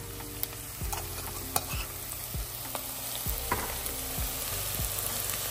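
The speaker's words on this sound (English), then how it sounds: "Gotta let that get in there and fry our vegetables." Vegetables fry with curry paste and curry powder in a pan, a steady close sizzle broken by a handful of sharp utensil scrapes and knocks as they are stirred.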